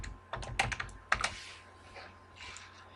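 Typing on a computer keyboard: a short run of quiet, close key clicks in a few quick clusters, fading to soft occasional taps and room hum.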